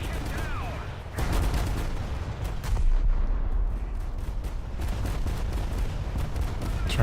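37 mm guns fire at a ship in a naval video game. Repeated dull bursts land against steady engine and sea rumble, close and fairly loud, with brief speech.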